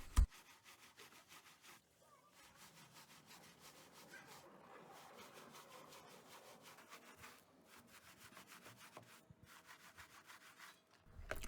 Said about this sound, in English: you can agitate it like I am with a few brushes like the Easy barrel brush and the Viking soft bristle